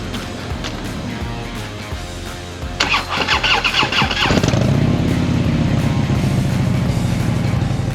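A motorcycle engine starts up: a low rumble with a cranking burst, then the engine catches and settles into a steady, loud idle that fills the rest of the clip.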